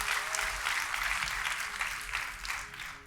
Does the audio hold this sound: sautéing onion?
no